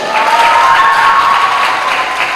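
Audience at a schools debate championship final applauds the winner, a dense sustained wash of clapping with a faint tone running underneath.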